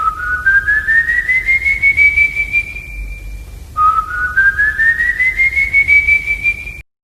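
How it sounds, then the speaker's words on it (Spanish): Two long rising whistles used to call a dog, each sweeping upward then holding steady, clear and close against a quiet background. "El sonido de silbidos sonaba igual que el silbido que yo solía usar para llamar a mi perro."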